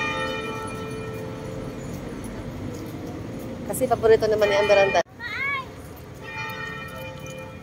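Church bell ringing at a basilica during a Marian pilgrimage at Our Lady of Guadalupe Parish, a sustained ringing tone heard under steady talking and outdoor crowd noise.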